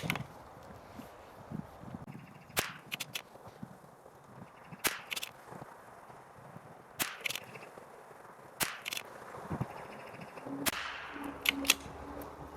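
Rifle shots from a Savage MKII rimfire with Lapua Center-X ammunition at an outdoor long-range setting, five sharp cracks spaced a couple of seconds apart over faint background noise and light handling sounds.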